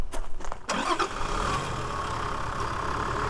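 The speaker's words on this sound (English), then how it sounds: "Let me put on the engine here." A Toyota Land Cruiser V8 engine cranks over in a quick burst of starter noise, then catches and settles into a steady, loud idle that holds to the end.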